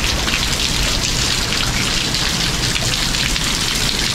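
Heavy rain from Hurricane Ian pours down steadily and loudly, a dense, unbroken hiss close by with no voices.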